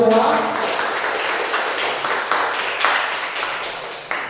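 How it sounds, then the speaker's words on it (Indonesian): A classroom of students claps together at the end of a lesson, a dense, steady patter of many hands filling the whole stretch at close range and fading slightly toward the end. "Silakan tepuk tangan buat kita semua."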